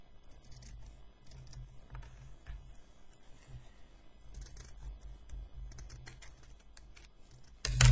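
Scissors cut out fabric templates for an embroidery project, producing a steady run of quiet close snips and paper-like crunches, ending in a sudden louder knock.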